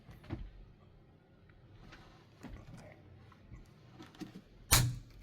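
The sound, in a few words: hand screwdriver driving a screw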